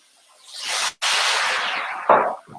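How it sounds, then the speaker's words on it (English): A lid goes onto a pan of chicken steaming with added water: a steady loud hiss runs throughout, broken by a short gap and then a sharp clank from the lid near the end. "And put the lid on top."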